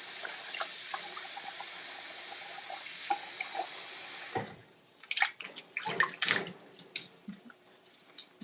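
Tap water runs steadily into a sink or tub while a rescued baby raccoon is bathed, then the flow stops and gives way to splashing and dripping sounds nearby.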